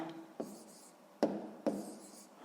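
Pen writing out a sixth-grade math solution on paper: soft, close scratchy strokes with three brief sharper taps, faint and quiet, no talk.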